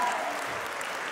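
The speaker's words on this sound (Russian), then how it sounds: "Аплодисменты, друзья!" Steady applause from a concert audience at a New Year's concert in Makhachkala, a brief dense wash of clapping filling the hall without any talk.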